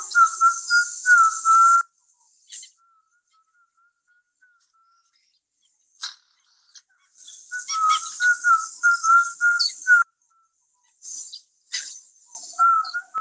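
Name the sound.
Piraha language being whistled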